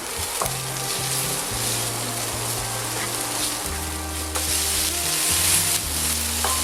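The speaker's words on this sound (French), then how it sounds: "je vais bien insister sur l'oignon. Hein. Je vais lui donner une petite couleur blonde." Chopped onion and bell pepper frying in a pan over moderate heat for spaghetti with corned beef and summer vegetables, a steady close sizzle with occasional stirring scrapes and no talk.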